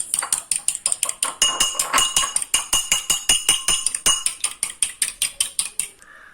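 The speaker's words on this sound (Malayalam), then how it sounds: "ഈ മാറ്റി വെച്ചേക്കുന്ന മുട്ട നന്നായിട്ടൊന്ന് അടിച്ചു കൊടുക്കണം" Eggs beaten by hand in a bowl for popcorn chicken batter, with a fork or whisk striking the sides in a fast, steady series of loud, sharp clicks that stops near the end.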